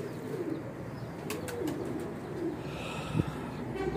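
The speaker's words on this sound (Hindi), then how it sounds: "कबूतर वेखो" Close, continuous cooing from a group of pigeons, including Weshi, Kansani and Sialkoti breeds, forms a low, bubbling chorus, broken by a brief sharp knock and light flutter near the end.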